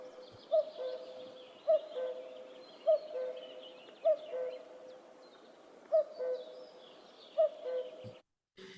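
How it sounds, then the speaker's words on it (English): A common cuckoo, the European bird, repeats its two-note call about seven times at a steady, unhurried pace. Each call sounds clear and moderately near against a quiet background, and the clip ends with a short silence. "the European bird called the common cuckoo"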